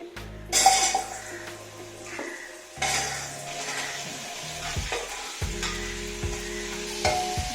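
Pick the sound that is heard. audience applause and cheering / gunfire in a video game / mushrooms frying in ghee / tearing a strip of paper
mushrooms frying in ghee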